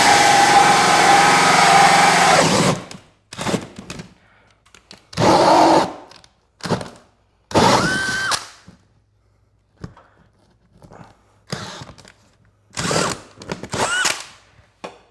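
Power drill boring a hole through a shop wall for a Mr. Cool DIY mini split line set, a loud steady whine for about two seconds, then short broken bursts of drilling with pauses between them.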